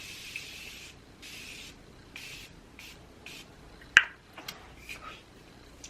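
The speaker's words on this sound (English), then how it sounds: "I'm just going to spray some setting spray on my face quickly, and this is the Morphe Prep and Set." Morphe Prep and Set setting spray is pumped onto a face in several short, close hissing bursts, followed by a few faint clicks and taps in a quiet room.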